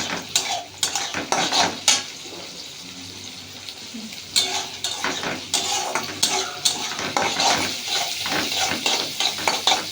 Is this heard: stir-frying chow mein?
yes